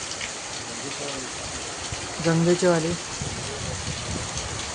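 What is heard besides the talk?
first monsoon rain falling in Konkan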